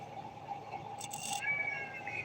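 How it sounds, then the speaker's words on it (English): A cat meows faintly in a quiet room, with a couple of soft, drawn-out cries rising over low background noise. "So he's just meowing because he's seeing,"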